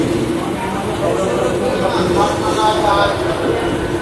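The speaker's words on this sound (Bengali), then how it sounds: "তো ট্রেন এখন ছেড়ে দিয়েছে" A train pulls out of a station with a continuous low rumble and faint rhythmic clatter of the wagons, heard close by and under people talking.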